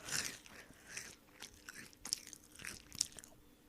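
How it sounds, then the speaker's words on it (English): Food crunches as someone bites and chews, sharp brittle crackles in irregular bursts, close up and fairly quiet, with no talking. "Please excuse my horrible crunching."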